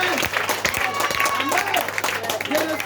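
A church congregation at a large night vigil claps and applauds in praise of the Lord, with loud irregular claps under raised voices and crowd noise.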